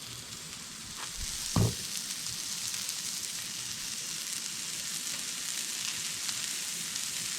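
Bacon sizzles in a new frying pan being seasoned on a camp stove, a steady close crackling hiss throughout with a brief louder thump near the start.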